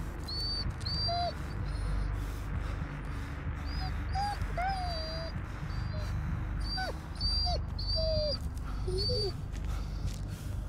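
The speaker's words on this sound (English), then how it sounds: "Dogs." Dogs whimper and whine in high, wavering cries over a steady low ambient rumble in the horror video game Blair Witch, with bird-like chirps mixed in.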